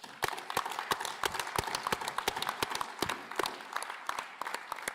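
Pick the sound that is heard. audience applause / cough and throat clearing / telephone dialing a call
audience applause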